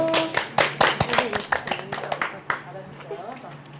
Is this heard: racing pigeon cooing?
no